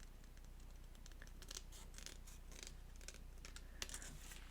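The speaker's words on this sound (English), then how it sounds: "I'm going to just trimming off the flower part. Only the stem part." Scissors snip around a die-cut flower image in paper, trimming the bloom away from the stem; small quiet cuts come close together and repeat steadily, with one brief crisper snip near the end.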